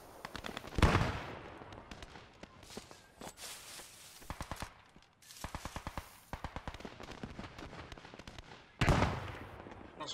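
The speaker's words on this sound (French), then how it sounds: "Attention derrière la mitrailleuse." Machine gun fire rattles in the World War II shooter Post Scriptum during street combat in Arnhem, coming as several short bursts of rapid shots with louder single blasts in between, at mixed distances.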